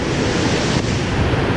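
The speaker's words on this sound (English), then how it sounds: "Look how fast this water's moving." Rushing creek water flowing fast near a waterfall, a dense, steady broadband roar that stays close and loud throughout, with no voices.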